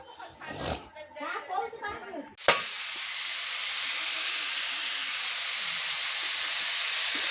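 Onions frying in a hot pan in an Odia home kitchen, a loud steady sizzle bursting in after someone speaks and hissing continuously to the end.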